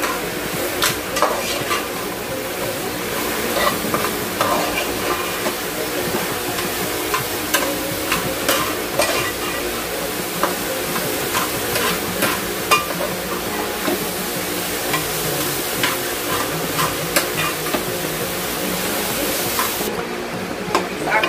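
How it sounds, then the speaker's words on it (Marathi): A chana dal mixture with sugar is stirred and fried in a pan. The sizzle is continuous, with a spoon scraping and tapping against the pan throughout. Nobody speaks. "साखर त्याच्यात एकजीव झाली तोपर्यंत एकजीव झाल्यापर्यंत आपण त्याला परतूया."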